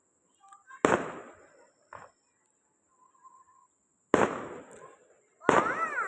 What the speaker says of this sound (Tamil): நம்ம ஊர் திருவிழாவுக்காக வானவெடி வெடிக்கிறாங்க பாருங்கள் எவ்வளோ கலர்ஃபுல்லாக சூப்பராக இருக்குது